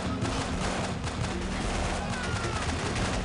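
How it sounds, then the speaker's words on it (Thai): Continuous gunfire in Delta Force: Black Hawk Down, a dense, unbroken fusillade of overlapping shots with steady loudness throughout. "มีรู้สึกว่ามีการยิงการเกิดขึ้นตลอดเวลาเลย"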